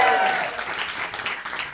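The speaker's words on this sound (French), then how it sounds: "Ceux qui applaudissent, c'est ceux qui ont des gosses." Brief applause from a studio audience during a French television show, dense clapping that fades slightly with a voice briefly audible at the start.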